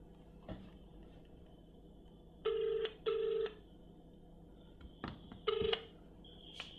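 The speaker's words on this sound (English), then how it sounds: "Phone's ringing." A telephone rings in two short electronic bursts, then another brief ring after a pause, with faint clicks and room noise around it.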